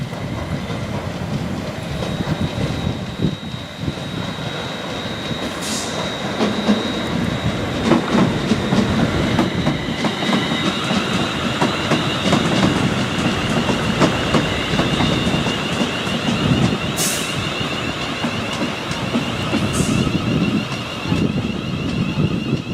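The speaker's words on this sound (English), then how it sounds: "The unit there coming towards, heading from Crewe to Euston, I would imagine." A passenger train unit on the Crewe to Euston line passes at Polesworth, a continuous rumbling roar with rhythmic wheel clatter and wind noise, steady and fairly close for over twenty seconds, with no talk.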